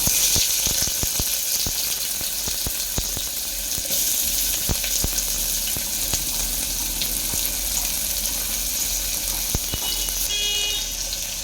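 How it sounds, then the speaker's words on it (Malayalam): Onions frying in hot oil in a pan make a steady, close crackling sizzle, with occasional stir clicks and a brief watery trickle near the end, and no talking. "ഗൈസ് ഇനി നമുക്കിതിലേക്ക് ഉള്ളി ഇട്ട് കൊടുക്കാം."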